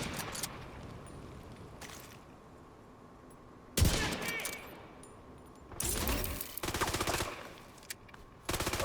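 Pistol gunfire in the video game Division 2, sharp loud shot bursts arriving in separate clusters with quiet gaps between them, some single cracks and some rapid strings.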